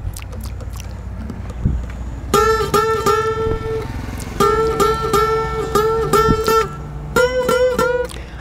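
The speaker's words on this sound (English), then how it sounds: "Unison bend is like this." Electric guitar unison bends ring out in three separate phrases, with bent notes sliding up in pitch and sustaining, over a low background rumble.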